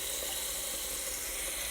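Tap water runs steadily into a cooking pot at the kitchen sink, a continuous close broadband rush with no break and no talking.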